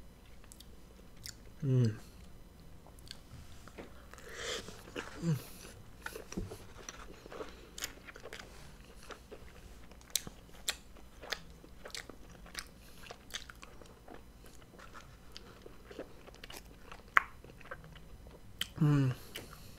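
Chewing on a Santa Fe s'mores crepe filled with chocolate, marshmallow and vanilla ice cream, soft close-up bites and mouth sounds coming in bursts, with quiet murmurs of satisfaction now and then.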